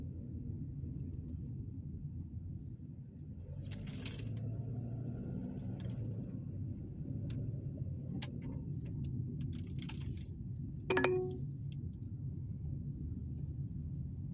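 A car drives slowly through newer residential subdivisions in Troy, Alabama, with a steady low cabin rumble throughout and a few faint clicks and ticks over it. No one speaks.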